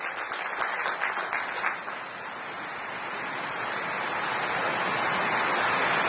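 Applause from a crowd at an educational convention hall, a dense continuous wash of clapping lasting several seconds, loud and sustained with a few sharper claps early on, no speech.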